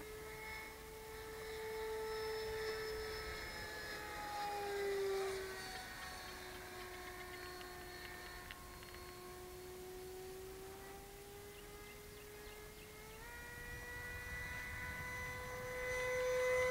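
An HSD Super Viper 12S RC helicopter flies overhead at a little below half throttle, a sustained turbine-like whine that slowly shifts in pitch as it moves, moderately distant and with no talk.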